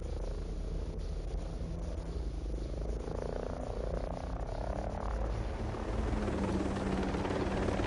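Helicopter rotor chopping in the video game Ghost Recon Breakpoint, a steady loud low throb that continues throughout without speech.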